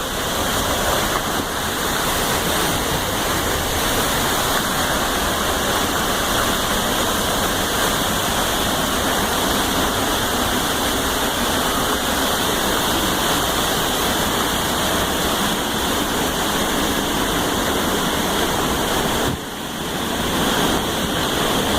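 Loud, constant roar of a waterfall on the Eagle Creek trail, a dense wash of rushing water heard up close with no break for its whole length.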